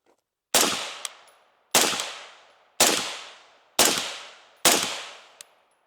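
Five evenly spaced gunshots fired through a rifle suppressor, each a sharp loud crack with a short decaying tail, roughly one second apart, with no talking.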